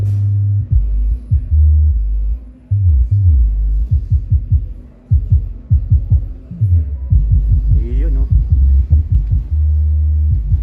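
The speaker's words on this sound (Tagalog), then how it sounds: "para marinig yung tunog ng ating subwoofer" Deep, booming subwoofer bass thumps driven by a Tosunra Max 1.2 class H powered amplifier pulse rhythmically in bursts, loud and heavy, with a sustained low drone between hits and no voices.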